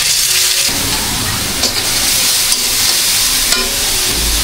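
Tengra fish coated with onion fries in hot oil, giving a loud, continuous sizzle with occasional stirring clinks and no talking.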